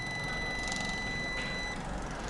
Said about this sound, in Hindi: जैसे ही आप इसकी रेंज में लाएंगे, जितना आप करीब ले जाएंगे ये आहिस्ता आहिस्ता जो इसकी बीप है वो बढ़ती जाएगी।